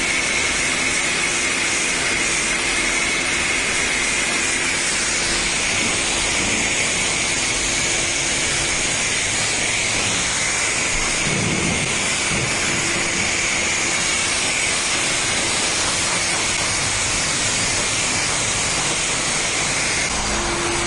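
A pressure-washer rinse spray in a car-wash simulator video game hisses steadily for the whole stretch, a loud, unbroken roar of water with no pauses.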